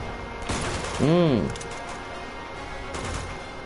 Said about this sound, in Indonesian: Nah, pakai pistol.